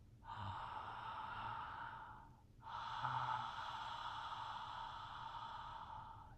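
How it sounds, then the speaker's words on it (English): Loud, open-mouthed breathing with a throaty ujjayi-like rasp, two long airy breaths separated by a brief pause, close and quiet overall. "we're going to be breathing through the mouth."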